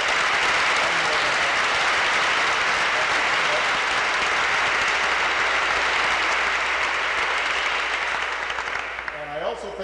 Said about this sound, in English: give another round of applause to the faculty and staff of the Lab School